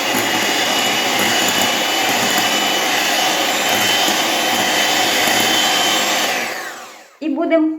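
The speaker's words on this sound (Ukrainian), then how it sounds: "тепер гарненько я перемішаю" A loud electric mixer whirs steadily as it beats cake dough with butter, a constant droning motor that cuts out near the end, followed by a brief clatter.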